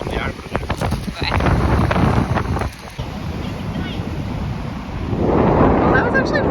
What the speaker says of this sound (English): I don't know if you guys can even hear me because it's so windy